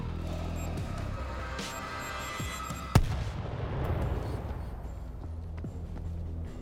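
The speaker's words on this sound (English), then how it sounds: "A little C4 would crack that open. Fire in the hole!" A C4 charge blows open a sealed bunker in the zombie shooter World War Z, set in Jerusalem: a sharp, loud blast partway through, followed by a rumbling decay over ongoing game noise and scattered thuds.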